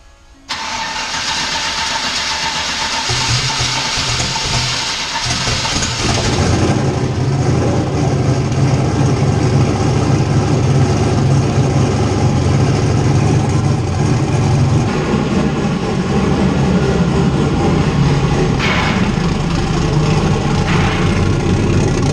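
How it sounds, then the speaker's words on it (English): The ChevStang Mustang cold-starts on a dyno, catching after a short crank and settling into a loud, rough, thumping idle with heavy low rumble that carries on steadily. "So this is a total cold start on the Mustang,"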